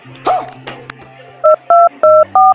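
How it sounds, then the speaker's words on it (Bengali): A sequence of four keypad dialing tones on a telephone, loud and evenly spaced, comes after a faint, indistinct voice at the start. "এবারে আমার প্রেমিককে ফোন করে ডাকি।"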